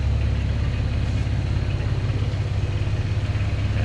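A supercharged Lexus IS350 engine runs at a steady, throaty idle, close up and continuous, with a deep low rumble and no voices over it.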